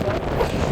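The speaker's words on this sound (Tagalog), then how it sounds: "ang lakas ng hangin at ang lamig pa" Strong, cold wind buffets a microphone outdoors in a brief, steady, rumbling rush.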